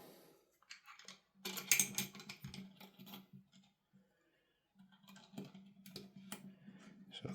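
Tokyo Marui MWS airsoft trigger pack parts click, tap and rattle into place in short bursts separated by brief pauses, close up and quiet, with no speech.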